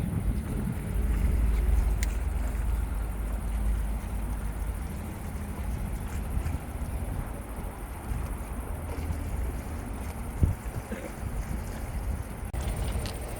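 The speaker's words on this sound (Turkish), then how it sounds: "Çok güzel bir hava var arkadaşlar. Mis gibi esinti var." Steady sea breeze on a shoreline while float-fishing for horse mackerel, a continuous low rumbling wind buffeting the microphone with a faint water wash underneath and one brief knock near the end, no talking.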